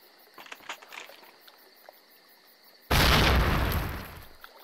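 A grenade detonating in the original Call of Duty on the dam map, a sudden loud blast with a long rumbling decay, preceded by faint ambient chirps and clicks.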